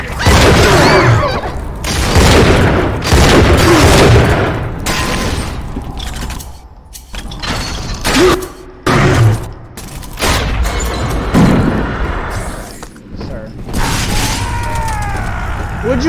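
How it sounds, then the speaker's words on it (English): Video game combat with repeated bursts of gunfire and booming explosions, loud and near, mixed with a player's voice talking over the action. "Would you kindly stop shooting me, you asshole?"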